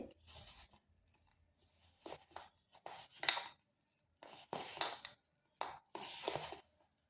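Rice flour being worked together with chopped onion by hand in a bowl, heard as short, irregular bursts of soft squishing and light clinks against the bowl, separated by brief pauses.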